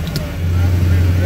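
A 2018 car rolling slowly in first gear on a dyno, its engine giving a steady low hum that swells slightly, with voices talking nearby.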